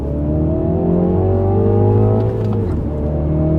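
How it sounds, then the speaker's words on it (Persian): A turbocharged 2019 Mini John Cooper Works revs and pulls hard from a standstill close by, its pitch climbing steadily before easing off near the end. "خب الان میخوام یه ریز شتاب بگیرم."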